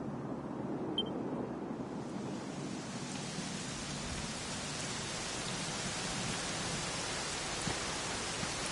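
Rain falling in the video game Dragon Quest XI S, a steady broadband hiss of downpour that fades in over the first couple of seconds, then holds evenly and fairly quietly with no speech.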